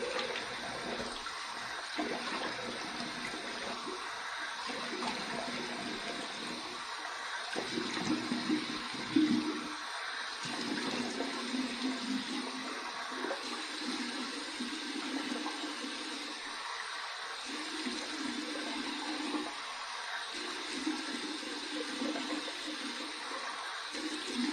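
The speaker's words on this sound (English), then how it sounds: "here's my warm water rinse" Warm tap water runs continuously over a freshly shaved head, a steady splashing rush with brief gaps and surges as hands move through the stream, close by.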